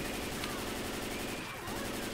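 Dense, continuous gunfire in the zombie shooter Left 4 Dead 2, rapid overlapping shots forming a steady loud clatter throughout.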